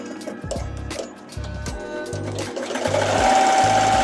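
Embroidery sewing machine stitching a design on a kid's shirt, loud and close, its needle thumping in short repeated bursts with small pauses before running into a continuous buzzing whir.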